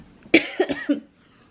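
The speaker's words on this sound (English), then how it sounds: "keep coughing, so I need to go to bed" A short burst of three or four harsh coughs, close by, followed by quiet.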